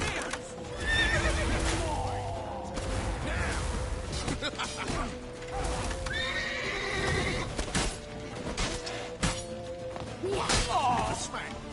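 Horses neigh and whinny in a video game, with hoofbeats clip-clopping through a busy, loud mix of thumps and crashes as voices shout over the action.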